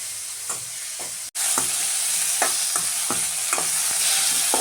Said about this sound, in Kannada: ಇವಾಗ ಟೊಮೆಟೊ ಹಾಕ್ತಾ ಇದ್ದೀನಿ. ಇದನ್ನು 1 ನಿಮಿಷ ಚೆನ್ನಾಗಿ ಫ್ರೈ ಮಾಡ್ಕೊಂತೀವಿ.